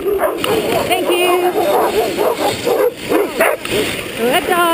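Dogs bark, yip and whimper in an excited, overlapping jumble outdoors, close and loud throughout, with a person talking among them.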